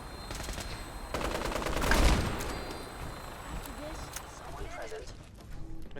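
Bursts of automatic gunfire in the video game Fallout 4, rapid cracking volleys that swell mid-clip and then thin into scattered shots, with voices and game sounds mixed in.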